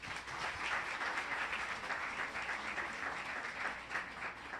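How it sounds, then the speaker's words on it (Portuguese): A seminar audience marking a magazine's sixth anniversary applauds its editor: a full, even roll of many hands clapping from start to finish, with no talking over it. "Uma salva de palmas."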